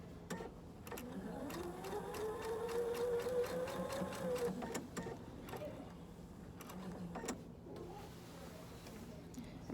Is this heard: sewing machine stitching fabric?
yes